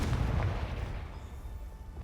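A Confringo blasting spell explodes in Hogwarts Legacy, a deep booming burst up front that fades into a low rumbling tail over about two seconds, with no voices.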